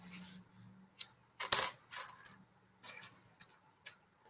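Circulated coins are handled close up, giving bright metallic clinks and jingles in small irregular bursts separated by quiet gaps.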